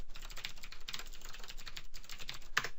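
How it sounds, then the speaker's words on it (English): Quiet, rapid typing on a computer keyboard as an email address is entered, with a continuous patter of keystrokes and a short pause near the middle. "So let's go ahead and type in my email into this"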